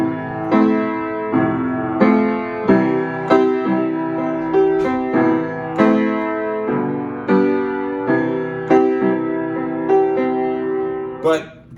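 Piano chords played with two hands, struck one after another in a steady, unhurried rhythm, each ringing briefly before the next lands, close and clear with no talking.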